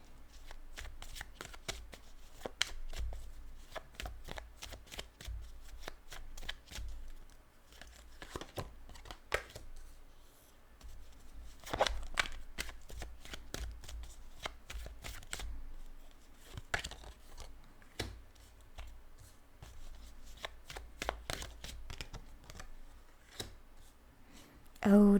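Tarot cards being shuffled and laid out during a spiritual reading: continuous close riffling, flicking and soft slaps of cards on a surface, busy and irregular, with no voice over them.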